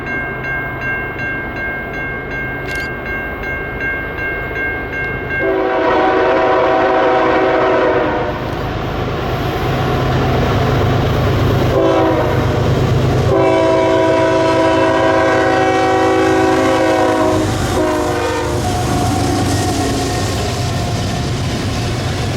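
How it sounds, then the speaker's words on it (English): A CPKC run-through auto rack freight train led by a CP GEVO locomotive with a KCS AC-44 trailing rumbles past loud and close on a steep grade, its horn sounding in long repeated blasts over the steady roar of wheels and cars. "the train was a CPKC run-through auto rack, 106, with a CP-GEVO leading and KCS AC-44 trailing."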